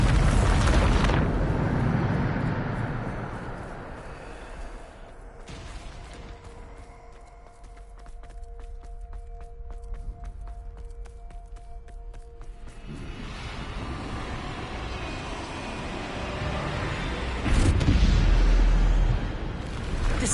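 A Bombarda blasting spell erupts in Hogwarts Legacy with a loud booming burst at the start, a rumbling stretch that fades, then a crackling swell and another heavy blast near the end, all without talking.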